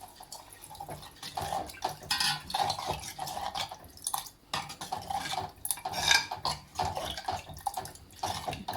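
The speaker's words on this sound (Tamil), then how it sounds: "இந்த சமயத்தில் நம்ம கரைச்சி வச்சுருக்க புளி தண்ணியை சேர்த்துக்கலாம்" Tamarind water pours and splashes into a pan of Tamil kuzhambu alongside clinking of a utensil against metal, close and fairly quiet, in irregular bursts.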